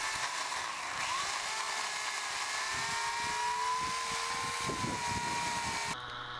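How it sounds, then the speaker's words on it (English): A 16-inch gas chainsaw on a beam mill drones steadily while cutting through an oak log, its engine pitch wavering under load before it cuts off near the end. "Here's the beam machine being used with a 16-inch gas chainsaw."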